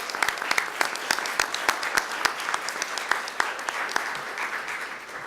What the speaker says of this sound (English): I'd like to give her a round of applause as well.